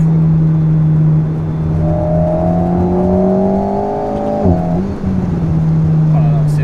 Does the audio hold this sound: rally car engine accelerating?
yes